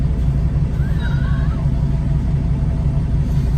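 A semi truck slows to a stop at a red light, its deep engine rumble steady and close throughout, with a brief whine near the middle.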